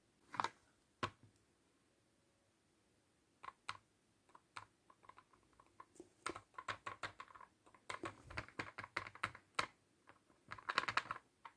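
Someone types on a computer keyboard in quiet, irregular bursts of close, crisp keystrokes that grow denser toward the end, with no talking.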